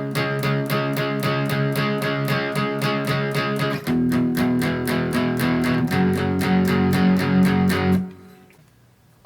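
Guitar strumming the verse of a song, a steady rhythmic chord pattern that shifts chords twice and stops near the end, played alone without talk.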